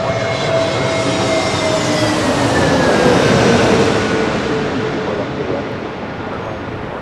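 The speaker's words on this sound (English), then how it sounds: "coming in from Philadelphia on an A321neo" An American Airlines A321neo arriving at LAX from Philadelphia passes with a loud, broad jet roar and whining engine tones that sweep gradually downward, swelling mid-pass before easing off.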